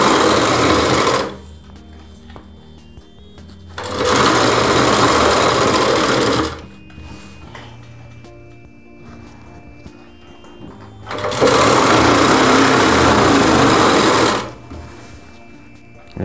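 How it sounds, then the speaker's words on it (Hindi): Close, loud bursts of a sewing machine sewing the side seam of a readymade Rajputi lehenga, running in three separate stretches of several seconds each with quieter pauses between them. "फोल्ड करने के बाद हमें ऊपर की साइड में सिलाई लगानी है"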